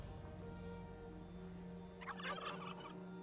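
Turkeys gobble in the World of Warcraft game world of Elwynn, a short burst of gobbling calls rising over a steady humming in-game ambience with tonal background drone.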